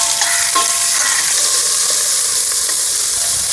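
Sliced onions fry in a hot pan for jackfruit pulao, a loud, unbroken sizzle and hiss with faint scrapes of stirring, close up and with no talking.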